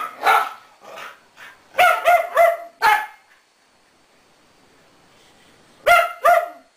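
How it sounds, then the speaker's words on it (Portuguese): A dog barks in short bursts, a few spaced yaps followed by a quick cluster, then a pause before two more barks near the end. "O latido dela é muito engraçado."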